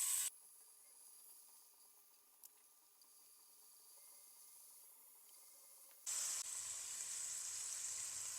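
Bacon slices laid into a frying pan over low heat give a quiet, steady sizzle that starts abruptly after a brief opening hiss and runs on evenly, then grows louder near the end.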